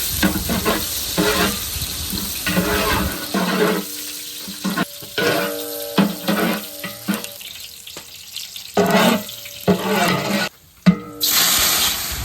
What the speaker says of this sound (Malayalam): കുറച്ച് ഉള്ളി കൂടി ഇട്ട് കൊടുക്കുന്നുണ്ട് ചെറുതായിട്ടൊന്ന് വഴറ്റിയെടുക്കാം